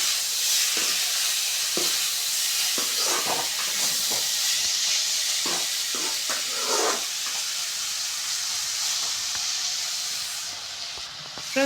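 Egg fried rice is stirred in a hot pan, with loud, constant sizzling and hissing steam and repeated scraping strokes of the spoon against the pan, heard close with no talk.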